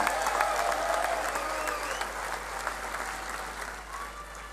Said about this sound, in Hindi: एक बार ताली बजाकर इनका स्वागत करिए।